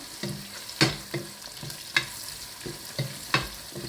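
Vegetables cooking gently in a pan under a soft sizzle, with a spoon scraping and clinking through them in repeated stirring strokes about every half second, close and fairly quiet with no talking.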